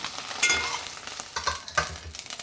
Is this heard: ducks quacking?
no